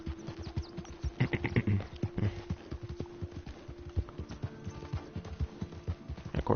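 Rhythmic clip-clop of horse hooves in the video game Red Dead Online, a steady gait heard fairly faintly and close with little else over it.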